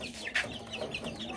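Penned chickens cluck softly at close range, a few short throaty calls scattered over a brief moment with one sharper cluck near the start.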